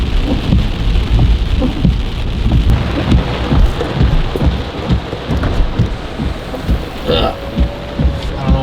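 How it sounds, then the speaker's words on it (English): Heavy rain pours steadily and loudly close by, a dense hiss with drops pattering on surfaces and low rumbling underneath throughout. "I think it is now like too rainy to do it."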